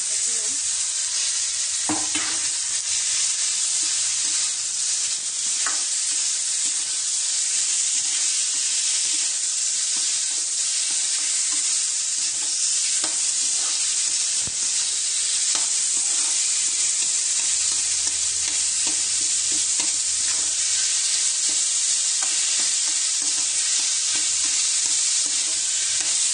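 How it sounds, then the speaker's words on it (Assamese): Elephant foot yam frying with salt and turmeric in a pan, a steady loud sizzle running throughout with the scrape and clatter of stirring breaking through now and then, no voices. "এতিয়া মই ইয়াতে ওলকচুখিনি ভাজি ল'ম।"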